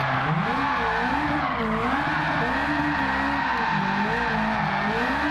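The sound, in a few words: tires skidding as Ferrari-engined Alfa Romeo 4C drifts, Gran Turismo 7 video game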